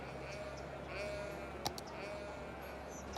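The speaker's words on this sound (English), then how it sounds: "I can hear the sheep." A faint sheep bleat in Cities: Skylines drifts over a low, steady ambient background, with a brief click partway through; distant and quiet.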